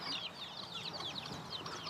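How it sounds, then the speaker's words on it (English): Young chickens at a farm stop in Kansas chirp and cluck continuously in a dense, fairly quiet chorus of high peeps with no talk. "Oh, look at the wee chickadees."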